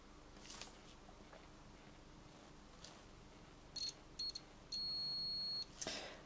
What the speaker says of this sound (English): We get a beep, so that's good.